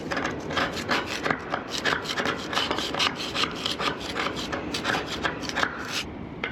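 Dense, steady scrubbing and rasping against a corroded fitting on a long-abandoned sailboat mast, a continuous close-up rubbing texture with rapid strokes and no voices.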